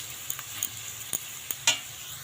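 Potato pieces frying in a pan give a soft, steady hiss, broken by a few light clicks and taps from stirring. The sound is fairly quiet and close, with no voices.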